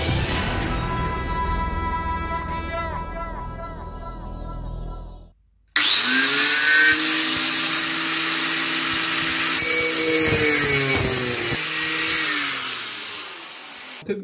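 An angle grinder cuts through steel exhaust tubing for a homemade Honda Dax exhaust, a loud continuous high-pitched whine and rasp after a short pause, with a smaller tool-like hum and ringing tones before it.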